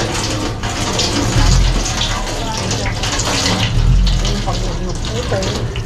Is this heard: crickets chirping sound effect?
no